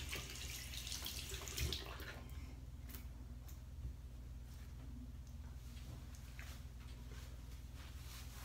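Steady running water from a bathroom tap while hands are rinsed, a continuous hiss with a few small splashes and clicks, fairly quiet and close, no talking.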